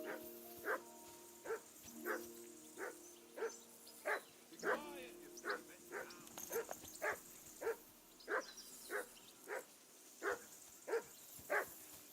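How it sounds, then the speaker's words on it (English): In the medieval game Kingdom Come: Deliverance 2, a dog barks in a steady series of about fifteen sharp barks at regular intervals, moderately close, with a brief stretch of speech partway through. "Henry, call that dog to heel."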